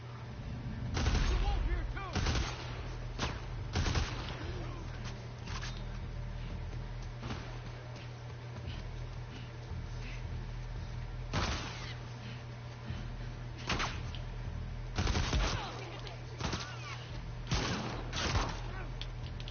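Gunfire from a burst-fire weapon in the game The Last of Us Part II, sharp reports in short bursts spread through the stretch over a steady low hum, with a voice talking in places.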